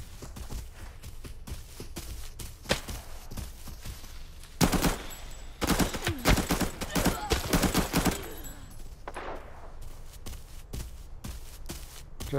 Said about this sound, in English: Sounds like the gunshots are coming up here.